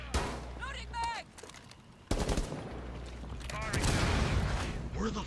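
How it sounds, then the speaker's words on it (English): Gunfire in the tactical shooter Rainbow Six Siege cracks out in bursts. Sharp shots come near the start and middle, followed by a busier stretch of rapid fire under overlapping game sounds and brief voice chatter. "Where the fuck was I being shot from?"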